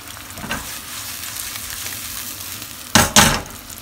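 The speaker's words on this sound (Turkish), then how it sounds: "zeytinyağı kızdıktan sonra soğanları sotelemeye var İlave ettim ve kavurmaya başlıyorum." Onions sauté in hot olive oil in a wok, making a steady crackling sizzle with a few soft stirs, then two loud bursts of sizzling near the end.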